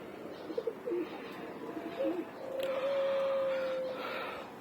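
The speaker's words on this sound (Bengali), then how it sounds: "এটা একটা নর কবুতর।" A male pigeon coos nearby, starting with a few short throaty notes and then drawing out one long steady coo, alone against quiet background noise.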